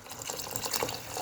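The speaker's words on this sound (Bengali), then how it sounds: "এবার দুধ দিয়ে দেবো, জাল দেওয়া দুধগুলো দিয়ে দেবো" Boiled milk poured into a pot of date-palm jaggery rice pudding, a brief, close, continuous splashing pour of liquid lasting about a second.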